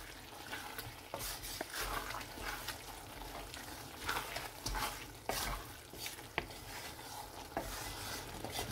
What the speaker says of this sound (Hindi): अच्छी तरह मसाले को मिक्स करूं,